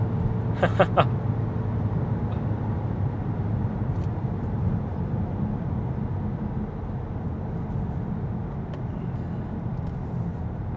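Cabin view of a Volkswagen Mk8 GTI under acceleration, with a steady low engine drone and road rumble, a few brief clicks early on, and no talking.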